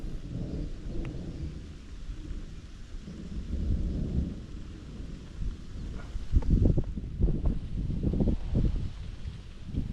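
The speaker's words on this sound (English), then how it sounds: "Stay away, lightning." Thunder from a lightning storm over a flooded creek, with deep low rumbles rolling through the first half and then several louder, closer cracks and booms near the end, no one speaking.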